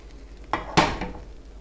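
A metal spatula scrapes and slides beneath a prosciutto and olive frittata in a pan, two short scraping strokes close by with a faint sizzle in between, no talking.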